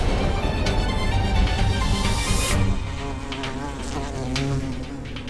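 A bee buzzes in a steady, close, droning hum with a wavering pitch throughout, set against a dramatic TV-serial soundtrack and no speech.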